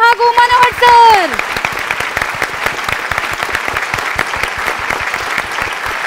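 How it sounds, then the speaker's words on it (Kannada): An audience claps loudly to welcome the judges of a Karnataka singing show onto the stage, in a dense, steady applause that follows a host's amplified voice at the start. "ನಮ್ಮ ತೀರ್ಪುಗಾರರನ್ನ ಬರ್ಮಾಡ್ಕೊಳ್ಳೋಣ, ಜೋರ ಚಪ್ಪಾಳೆ ಮೂಲಕ ಛಾಯಾ ಮ್ಯಾಮ್ ಹಾಗೂ ಮನೋಹರ್ ಸರ್."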